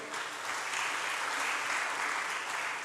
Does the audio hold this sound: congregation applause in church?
yes